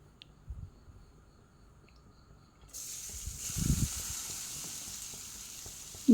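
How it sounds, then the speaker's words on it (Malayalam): Grated coconut frying in coconut oil, quiet at first with a few knocks, then a sudden steady hiss of sizzling that continues to the end with stirring bumps and a final clatter. "തേങ്ങ നമുക്ക് വറുത്തെടുക്കണം."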